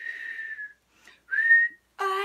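A human voice imitates a whistling tea kettle with a thin, steady whistle that rises and fades, breaks off, then comes back in a second whistle and a final shrill, many-toned blast, all close and clear.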